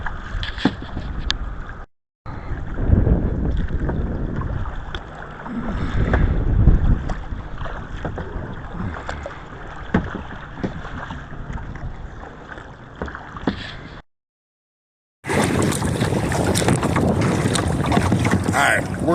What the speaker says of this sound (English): we got a boat playing chicken with us.